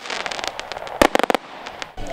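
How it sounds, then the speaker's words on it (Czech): New Year fireworks burst overhead above Chlebičov in the Czech Republic, a rapid series of sharp pops and cracks with a louder cluster of close bangs in the middle, then scattered reports. "V Chlebičově si děti i dospělí užili pyrotechnickou show, která se odhrávala nad jejich hlavami."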